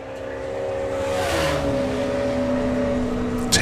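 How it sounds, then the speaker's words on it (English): A Rover-engined hot rod accelerates down the strip at a drag race, its loud sustained engine roar rising steadily in pitch over a few seconds with a brief sharp sound at the end. "But look at this Rover go."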